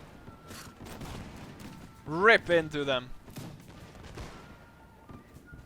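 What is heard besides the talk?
musket volleys and cannon fire in a Napoleonic battle video game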